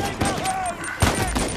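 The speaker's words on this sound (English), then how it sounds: "Gonna make me use my shotgun." Shotgun blasts from combat in the video game Uncharted 4, a couple of sharp heavy booms amid ongoing game noise and music, loud and close.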